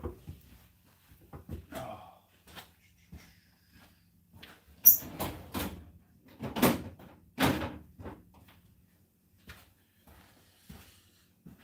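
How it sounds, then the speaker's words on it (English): A drawer opened and rummaged through to take out a Makita tool: scattered clunks, slides and rattles, a few louder knocks, indoors and close. "Let me get it out of the drawer for you."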